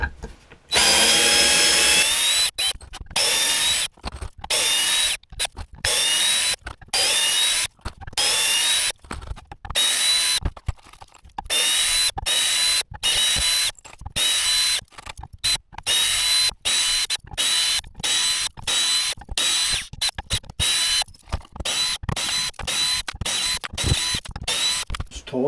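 DCA cordless hammer drill backs screws out of wood in repeated loud, close whirring bursts of a few seconds each, separated by brief pauses, with ratcheting clicks between runs.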